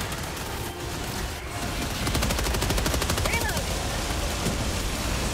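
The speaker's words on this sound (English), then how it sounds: "Look at the laser doing work out there." A laser cannon fires continuously in a shooter video game, a steady rapid pulsing stream heard at a distance amid battlefield noise, growing louder partway through, with no speech on top.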